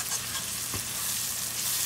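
Garlic fries in hot oil in a pan, giving a close, dense and continuous sizzle with a brief stir partway through and no voices.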